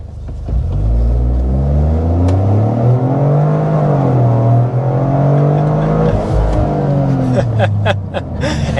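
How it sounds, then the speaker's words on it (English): The turbocharged 300-horsepower 3-cylinder engine of a 2025 Toyota GR Corolla with automatic transmission drones loudly and close, its pitch rising and falling as it accelerates, with a brief clatter of sounds toward the end. "the 300 horsepower from our turbocharged 3-cylinder engine"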